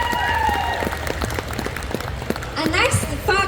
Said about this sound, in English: Round of applause for Cheri